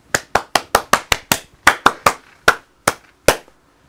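A teacher in a lecture for high school exam preparation claps hands about a dozen times, sharp and close. The claps come quickly at first, then slow to spaced single claps, with no talk over them.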